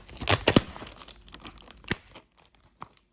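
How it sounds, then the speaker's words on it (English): A plastic bag of ground meat being torn open by hand, with loud crinkling and ripping bursts up front, a sharp tear near the middle, then quieter rustles fading out, close and without talk. "We're gonna open up the meat. And rip the bag."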